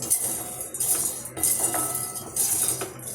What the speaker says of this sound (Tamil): பொட்டுக்கடலையை நல்லா வறுத்துப்போம்.